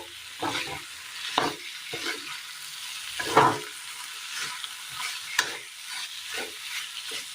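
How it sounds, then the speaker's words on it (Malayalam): Soya chunks are stirred in a frying pan, with repeated spoon scrapes and soft knocks over a gentle sizzle, close by and without talk. "നന്നായി ഇളക്കി കൊടുക്കാം."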